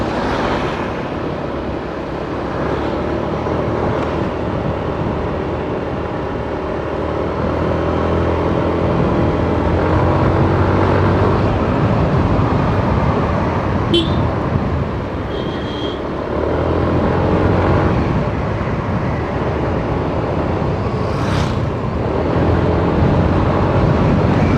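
A Yamaha Aerox 155 scooter rides through slow traffic on a mountain road, with steady wind buffeting and an engine drone under it, and a couple of faint horn-like chirps in the distance.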